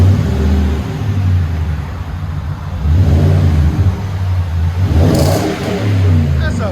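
2022 Nissan Titan Pro 4X 5.6L V8 with Magnaflow dual-in single-out exhaust and black tip, deep rumbling revs that swell and fall in repeated blips, close and loud, with voices faintly underneath.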